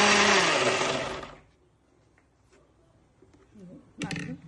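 A mixie blender grinds chutney for roasted brinjal, a loud close whirring roar for about a second and a half before cutting off, leaving near silence and a brief clatter.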